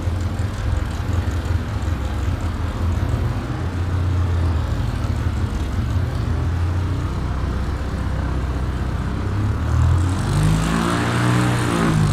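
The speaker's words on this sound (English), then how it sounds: "That's a wild low plane." A low-flying propeller airplane passes overhead in rural New England, its loud, continuous engine roar filling the whole stretch and sweeping to a peak near the end as it goes by.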